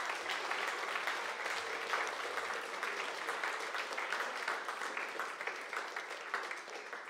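A church congregation at a Sunday service claps together in a dense, continuous burst of applause, moderately loud and steady for the whole stretch with no talking over it.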